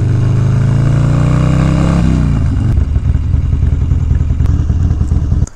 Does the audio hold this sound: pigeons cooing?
no